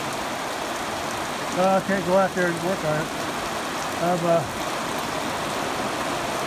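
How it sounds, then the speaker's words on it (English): Rain falls steadily on an outdoor rural property, a soft continuous hiss under a voice speaking briefly in the middle. "Well, it's raining again."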